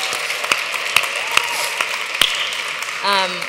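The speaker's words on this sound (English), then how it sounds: "So give them another round of applause." Scattered clapping from a small audience with a few sharp, distinct claps, followed by a voice starting to speak.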